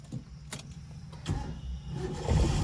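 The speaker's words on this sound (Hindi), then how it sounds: "क्लच दबा के इंजन ऑन कर लो" A car engine is started with the clutch pressed, giving a low, faint cranking rumble that swells into an idle, with a few clicks and thumps close by.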